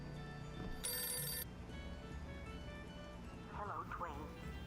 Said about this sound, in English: let's hear a creepy phone call.